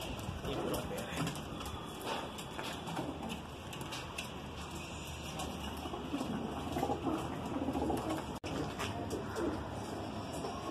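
Madrasi pigeons coo in a busy loft, soft repeated calls blending into a dense, steady background with voices talking nearby throughout.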